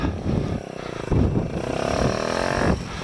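A Kawasaki Z125 small motorcycle revs hard while its rider practices standing wheelies, with a loud, close engine buzz that dips, surges back up and holds a rising, rough drone before easing off near the end.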